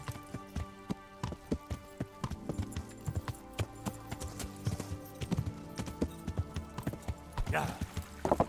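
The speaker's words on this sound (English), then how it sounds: "But first I have to call my horsey." Hooves clip-clop in an irregular run as a horse moves across ground in the medieval game Kingdom Come Deliverance, with sharp, fairly close beats at moderate level and a brief rougher burst near the end that may be a whinny.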